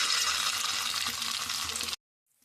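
Pieces of food dropped into hot oil fry with a loud, dense, steady sizzle close by, cutting off abruptly into silence near the end.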